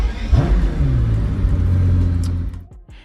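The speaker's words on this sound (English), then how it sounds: "When you start the V12, it doesn't just turn on, it wakes up the whole car. There's a mechanical whir, a bark from the exhaust" A hypercar's V12 engine fires up with a loud bark and climbs into a rising rev, holding a deep rumbling drone before cutting off abruptly near the end; close and powerful, with no talk.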